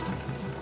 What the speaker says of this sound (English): Boys watch water flow from a faucet.